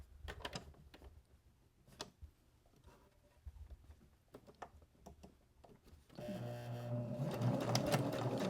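A sewing machine stitches a seam on a fabric journal cover, with faint handling noises at first, then steady loud continuous running from about six seconds to the end.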